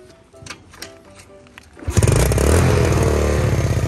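A motorcycle engine roars up into a loud, sustained rev about halfway through, preceded by quieter clattering and mechanical handling sounds.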